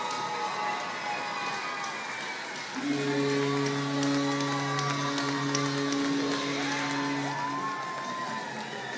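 A junior A hockey crowd roars and cheers after a Wildcats goal, a dense sustained swell of voices with a loud held horn-like tone sounding through the middle.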